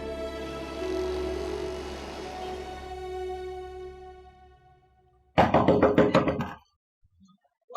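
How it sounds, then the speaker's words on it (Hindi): Rapid, loud knocking on a door sounds in a burst of about a dozen close raps in a Pakistani drama scene, following a stretch of fading background music. "दरवाजा खोल दो मैरू।"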